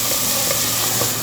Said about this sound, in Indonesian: sekarang kita akan tumis dulu bumbu halusnya